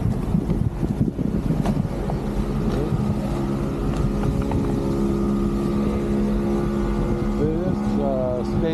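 Gusty wind buffets the microphone beside a canal boardwalk, a dense rumbling roar that persists the whole time with a faint voice and a background engine-like drone mixed in.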